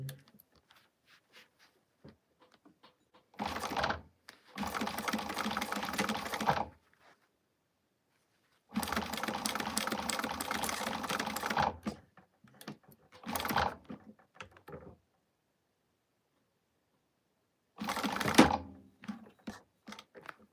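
Sewing machine stitching a tab onto fabric in short bursts of rapid mechanical whirring separated by quiet pauses, close and fairly soft.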